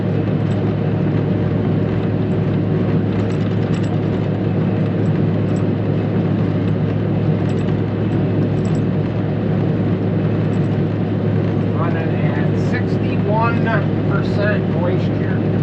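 A forage harvester chops conventional corn in a field, its engine and cutterhead giving a loud, steady, unbroken roar with wind noise throughout.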